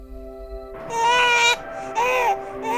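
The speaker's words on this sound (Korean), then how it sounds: "어디서 아이 우는 소리가 들려나갔더니 네가 있었다" An infant cries loudly on a snowy night after a moment of quiet, rising in strong wailing bursts with brief gaps between them, close and alone.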